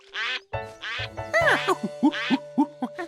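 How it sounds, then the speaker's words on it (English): Cartoon puddle ducks quack in a busy run of short, nasal calls, several overlapping and close, over a steady tonal backing. "There were real ducks."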